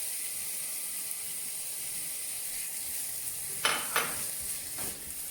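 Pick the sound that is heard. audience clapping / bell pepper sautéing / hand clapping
bell pepper sautéing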